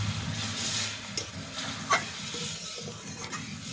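Lentils tumbled into melted tomatoes in a frying pan and stirred, a close scraping stir over a steady sizzle, with a sharper clink of spoon against pan near the middle.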